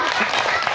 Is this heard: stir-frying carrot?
no